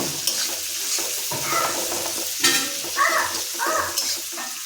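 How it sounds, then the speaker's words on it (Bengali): Onions sizzle loudly in hot oil in a pan while a spatula scrapes and stirs them in repeated strokes. A steady frying hiss runs underneath throughout, and no voices are heard. "এবার পেঁয়াজটা দিয়ে দেব। পেঁয়াজটা দেওয়ার পরে নেড়ে নেব।"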